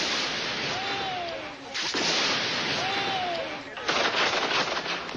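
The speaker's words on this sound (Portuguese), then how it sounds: "Civis cercam o QG dos militares amotinados e são recebidos a tiros e bombas de gás" Gunfire and tear gas grenades fired at a crowd of civilians surrounding the headquarters of mutinous soldiers: loud, sharp bursts and blasts over a constant roar of crowd noise and commotion.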